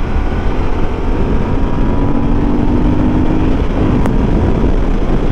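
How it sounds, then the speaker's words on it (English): A 2021 Moto Guzzi V7 850 Stone motorcycle runs on throttle while riding, giving a continuous loud engine drone mixed with wind rush, steady and close throughout. "I feel like this throttle is more direct than the Vulcan's."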